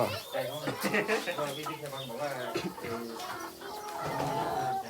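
A flock of about a hundred laying hens clucks and calls outdoors, a busy mix of overlapping bird sounds close by, with someone talking over them for much of the time.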